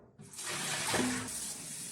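Water is poured out of a pot of clams in a kitchen, a short steady gushing splash that starts abruptly and continues close and fairly quiet.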